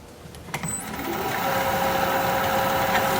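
A wood lathe spins a wooden bowl blank as the bottom is flattened and the profile turned, giving a steady mechanical whir with a faint tonal hum that builds after a brief knock and then holds.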